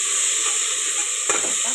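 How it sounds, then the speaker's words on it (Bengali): Chopped tomatoes frying with onions give a steady bright hiss, and one clear stirring scrape cuts through near the end, with no voices. "টমেটো কুচিটা দিয়ে ভালো করে নেড়ে নেবো।"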